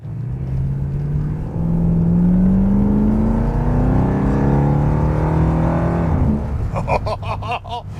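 A 1973 Jensen SP with a torque-converter automatic accelerates hard on a wet, lightly rainy road, engine note climbing steadily for several seconds before a drop as it shifts into second gear, loud and close.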